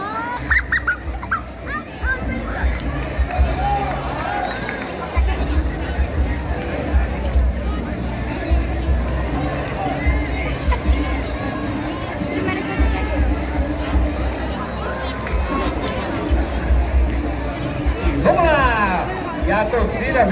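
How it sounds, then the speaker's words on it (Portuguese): At the finish of the Corrida da Fogueira street race in Currais Novos, a lively crowd of adults and children chatters, shouts and cheers continuously around arriving runners, with voices loud and close throughout. "E a torcida vem incentivando cada participante, cada um que finaliza sua participação"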